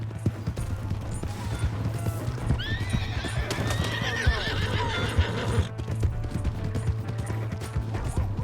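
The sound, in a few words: horse neighing and galloping, video game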